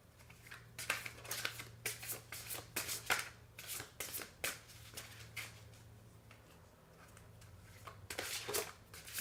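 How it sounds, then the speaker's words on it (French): Large oracle cards are shuffled by hand, a rapid run of papery riffles and slaps in uneven bursts, close and fairly quiet, with a brief lull before the shuffling picks up again. "je vais battre les cartes"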